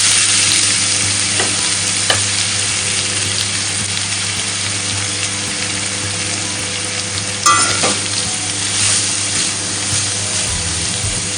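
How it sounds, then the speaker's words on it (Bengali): Carrots frying in a little oil in a wok, a loud, close, continuous sizzle with occasional spatula scrapes and clinks against the pan, with no talk. "কড়ার মধ্যে সামান্য একটু তেল দিয়ে গাজরগুলো আগে দিয়ে ভেজে নেব।"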